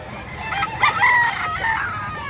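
A chicken at a poultry market in Lipa, Batangas gives a few loud clucking, crowing calls in quick succession over a busy market background.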